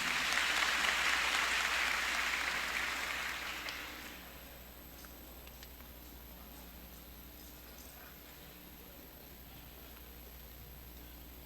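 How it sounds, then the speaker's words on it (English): Loud, steady applause from a large audience at a senior high school graduation ceremony fills the first four seconds, then fades away into quiet room tone. "A round of applause, please."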